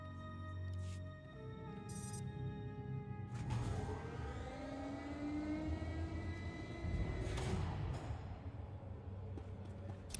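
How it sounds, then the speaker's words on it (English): Tram ride in the video game SWTOR: a humming vehicle drone with rising and falling whine-like tones and a couple of brief hisses, steady and moderately loud with no voices. "We're taking this tram."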